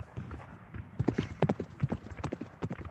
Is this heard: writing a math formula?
no